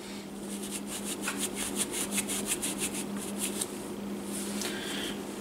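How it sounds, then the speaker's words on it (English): A .22 Heritage Rough Rider single-action revolver is rubbed down with an oil-soaked rag, giving steady close swishing strokes in a quick repeated rhythm, alone with no talk. "Basically just rub the whole thing down"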